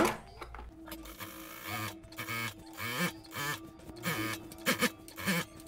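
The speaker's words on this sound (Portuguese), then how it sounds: "E para isso, eu vou utilizar o meu calcador de franzir." A sewing machine fitted with a ruffler foot gathers fabric for a child's festa junina dress. Short, close bursts of rapid stitching start and stop repeatedly, with a rhythmic mechanical clatter.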